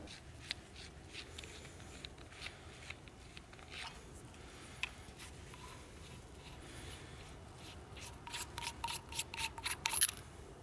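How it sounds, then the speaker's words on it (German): A NiteCore SRT7 Revenger flashlight being unscrewed apart, giving faint dry scratchy thread rasps that grow into a quick run of louder clicking scrapes near the end, close up and with no talk. "Ich schraube sie mal auseinander."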